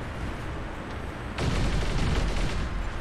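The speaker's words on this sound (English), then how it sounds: "Why are you shooting at me, man?" Robot weapons firing in War Robots, a dense, loud burst of game gunfire that steps up sharply halfway through into heavier sustained shooting, with no talk over it.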